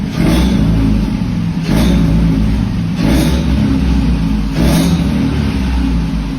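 A car engine with an aftermarket exhaust muffler revs in four strong bursts, each throaty roar rising then dropping back to a rumbling idle, loud and close.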